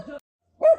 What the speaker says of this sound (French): Désolée pour le chien, je ne sais pas si ça s'entendra bien.